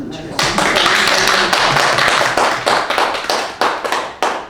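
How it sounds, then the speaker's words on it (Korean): An audience breaks into loud applause in a lecture hall, dense clapping that swells at once and then thins into scattered, fading claps. "박수 한번 주세요."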